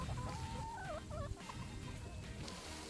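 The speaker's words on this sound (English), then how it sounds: "This is so cool. Look how many chickens." Chickens on a farm at a campground cluck and warble close by over a muffled background rumble, with short rising calls bunched in the first half.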